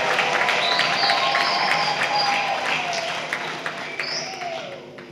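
Sustained applause and crowd noise fill a graduation ceremony at the Institute of Tax Administration, with high trilling voices rising over the clapping before it slowly fades.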